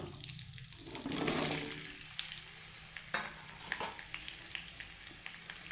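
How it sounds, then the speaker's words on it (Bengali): Okra sizzles steadily in hot mustard oil in a kadai. Stirring and a few clinks of utensils cut through the bright, continuous frying hiss, with no voices. "আর এইবার আমি ভেন্ডিগুলো ভেজে নেব"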